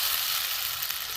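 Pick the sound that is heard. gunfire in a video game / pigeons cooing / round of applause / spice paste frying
spice paste frying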